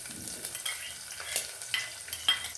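Ginger, garlic, onion and green chillies sputter and sizzle in oil for a pumpkin palya while a spoon stirs them, close-up crackles and scrapes in an uneven rhythm with no talk.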